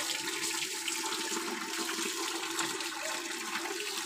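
Water running steadily during a bath at home, a continuous rushing splash from a tap or pour, even in level and close, with no talk.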